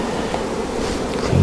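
Honey bees buzzing steadily and close during an early-June hive check, a dense continuous insect drone with no voices over it.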